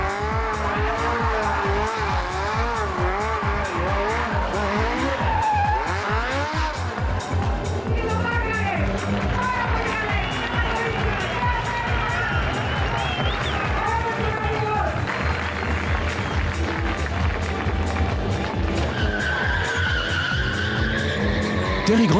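A stunt driver drifts a car in tight circles, with long wailing tire squeals and revving engine sweeping up and down continuously, loud and close, while a voice talks over it.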